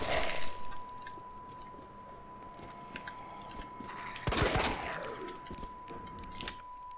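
Gunfire from a weapon in the game Resident Evil 2 (2019): a sharp shot at the start and a louder burst midway, set over a steady electronic tone and quiet game ambience.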